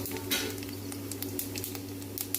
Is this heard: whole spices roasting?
yes